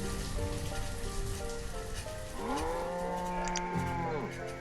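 Cows low in the village-building game Banished, two or three long drawn-out moos overlapping near the end, heard over a steady patter of rain and outdoor ambience with no speech.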